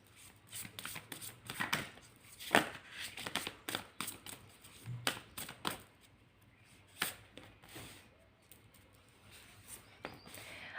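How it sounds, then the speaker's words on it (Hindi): Tarot cards are shuffled and drawn by hand in a quiet room, giving soft irregular riffles, slaps and flicks of card stock in scattered quick bursts at low volume. "तो सबसे पहले मैं कार्ड्स निकालूंगी, ठीक है। सारे कार्ड्स निकाल लेती हूँ"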